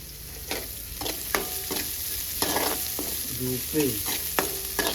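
Onions frying with curry leaves in a pan, kept slightly raw, for a Telugu chicken fry and black-eyed pea charu; a steady close sizzle broken by repeated stirring scrapes and clacks, with no talking.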